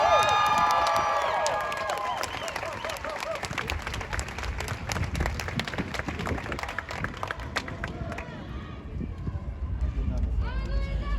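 Crowd at a community mourning rally cheering and clapping loudly, a sustained wash of voices and applause with scattered shouts, continuous throughout.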